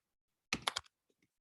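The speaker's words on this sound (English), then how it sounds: "sorry about my typing, y'all." Keys on a computer keyboard clatter in a quick burst of three or four close strokes during an online Canvas Studio training session, followed by a couple of faint, isolated clicks in an otherwise quiet room.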